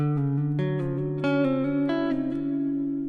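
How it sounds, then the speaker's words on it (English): An electric guitar plays a few sustained neo-soul chords using the chord quake technique, with a wobbling, shaking pitch, each chord struck then left to ring and waver. "Another cool technique is the chord quake."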